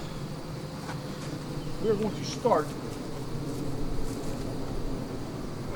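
Honey bees buzzing around an open hive full of nurse bees, a steady low drone throughout with a soft voice briefly heard.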